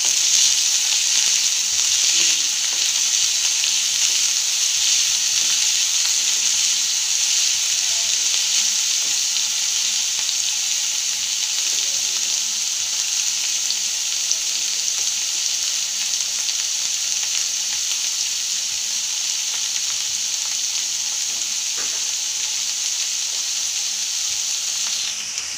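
Finely chopped capsicum frying with onion in a pan for pav bhaji, a loud, dense, continuous sizzle with faint stirring that holds steady for the whole stretch, no talking.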